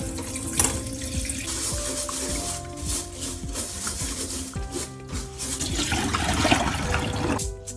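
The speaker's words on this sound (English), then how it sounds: "Wash and drain 100 grams of black glutinous rice." Tap water runs steadily into a sink while 100 grams of black glutinous rice is washed and drained, a continuous splashing stream with small clinks and swirls, no talking.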